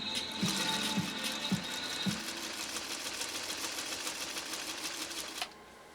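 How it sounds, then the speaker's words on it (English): A 1953 Singer 301A sewing machine runs with a size 11 embroidery needle through tough, chemically processed elk hide, a fast, even mechanical clatter of stitches with a few heavier thumps early on before it stops abruptly. "sewing an incredibly hard to get through chemically processed elk hide using an embroidery needle that's only a size 11"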